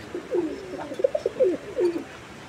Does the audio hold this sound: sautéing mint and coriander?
no